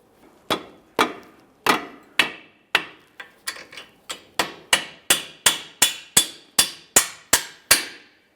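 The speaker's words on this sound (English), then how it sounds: "I'm using a rubber mallet." A rubber mallet taps a rear lower center control arm into position on a 2005-2010 Chrysler 300, about eighteen sharp close blows landing irregularly at first, then in a quickening even rhythm.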